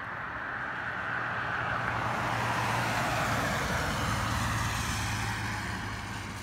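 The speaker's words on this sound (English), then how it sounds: "there's going to be traffic because it's Sunday morning and people want to do shit on Sunday morning" Steady road traffic on wet roads on a Sunday morning, heard as a continuous broad tire hiss and low engine rumble that stays fairly even throughout, with no distinct single passes.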